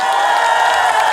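A large outdoor crowd at a market opening event in Taean cheers and applauds for a singer, a dense, loud wall of clapping and shouting.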